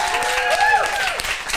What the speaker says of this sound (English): I'm sure you're going to give a louder applause to him than you did me